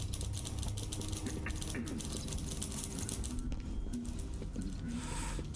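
Quick, uneven typewriter-like keystrokes clatter in the Dishonored video game, moderately close over a constant low ambient hum, with a faint voice murmuring in the background.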